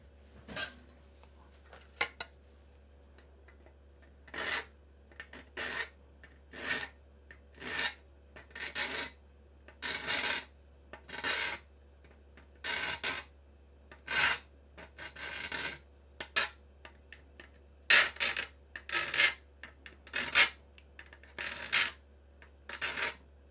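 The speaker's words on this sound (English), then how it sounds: "Enough we can just file it though." Hand filing on metal with a file, a series of separate rasping strokes that come in short bursts with quiet gaps between them, close and moderately loud over a low constant hum, with no talking.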